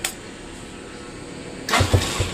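A push-button start on a motorcycle that had suffered a total electrical blackout: a quiet stretch, then a sudden engine crank and catch, with a few loud low thumps as it fires.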